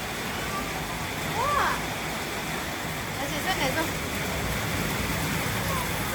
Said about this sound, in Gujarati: હાલો બહુ વરસાદ છે.